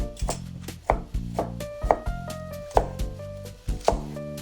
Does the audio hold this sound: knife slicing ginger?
yes